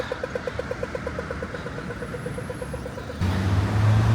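Cars move along a street near Royal Park in Melbourne, Australia, an ongoing rumble of passing traffic with a rhythmic ticking engine sound, then a louder vehicle swelling close by near the end.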